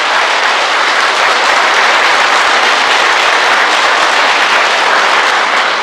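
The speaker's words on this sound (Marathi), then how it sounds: "त्या सगळ्या डॉक्टर देवांच्यासाठी एकदा जोरात टाळ्या वाजवा" A large audience at a talk on health and kidney care gives loud, continuous applause for the doctors. The crowded clapping is sustained and even for several seconds.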